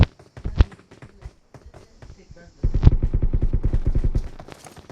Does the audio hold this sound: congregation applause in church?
no